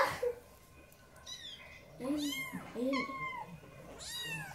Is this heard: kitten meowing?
yes